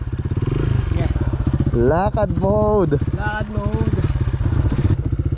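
A motorcycle engine labouring on a rough uphill mountain trail, a loud close chugging rhythm with revving surges, while a rider talks over it.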